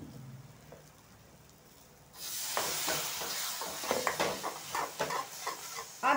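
Ginger-garlic paste hits a hot pan with onion for a stalk sabzi of chaulai greens and breaks into a steady close sizzle after a quiet start, with spoon stirring and scraping clicks on top and no voices.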